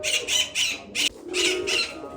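Pigeons call close by in a series of short repeated bursts with brief gaps, one bird after another, with no talk over them.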